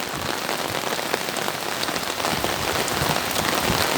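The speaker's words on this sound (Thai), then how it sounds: "น้องบีกับน้องบิ๊ก ปั่นจักรยานกลางฝนเลยนะครับ" Heavy rain pours down steadily, a dense, loud patter drumming on surfaces throughout with no pauses.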